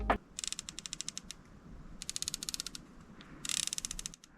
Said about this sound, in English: So I would say it's more profound of a noise in the Steiner per click than it was in the Nightforce.